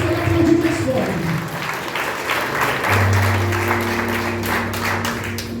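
A congregation at a worship celebration service applauds steadily, with sustained keyboard tones holding underneath the clapping.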